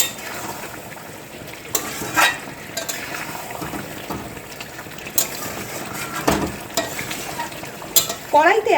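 Chicken, potato and soya masala is stirred in a kadai with a soft background sizzle. A spoon scrapes and knocks against the pan in scattered, irregular strokes.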